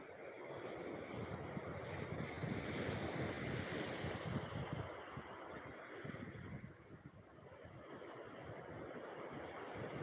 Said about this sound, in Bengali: তারই সঙ্গে চলছে প্রবল উত্তাল জলোচ্ছ্বাস দীঘার সৈকতে